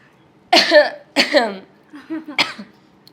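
Three short, harsh coughs from an unwell person in a Gujarati family drama scene, close to the microphone. Each burst is separated by a brief pause, and the third is quieter and more broken.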